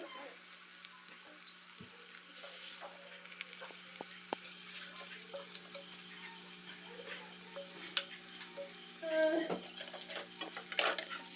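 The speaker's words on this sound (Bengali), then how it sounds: "বড়াগুলো এভাবে আমি ছাড়ছি তেলের ওপরে" Battered flower fritters slide into hot oil in a kadai and fry with a soft, quiet sizzle, broken by scattered clinks and scrapes of a utensil against the pan.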